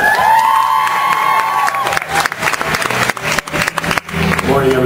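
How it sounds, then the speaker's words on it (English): Audience applause and cheering at a live fan-convention appearance by actor Rob Pralgo, a loud, dense wash of clapping with whoops and shouts from a big crowd, continuous throughout. "let's give him Mr. Pralgo one more time"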